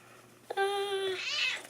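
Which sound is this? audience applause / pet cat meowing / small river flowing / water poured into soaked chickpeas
pet cat meowing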